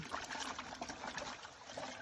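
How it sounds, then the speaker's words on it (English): Water trickles and splashes softly as a stream macroinvertebrate net sample is emptied into a bucket of water, a faint, steady pouring sound with small gurgles throughout. "invert the net and put it into this bucket with some water in it"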